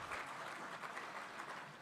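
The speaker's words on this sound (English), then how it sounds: "A round of applause to all of us once again." Conference audience at the Uganda National Urban Development Conference claps briefly, a dense, fairly faint patter of many hands without voices.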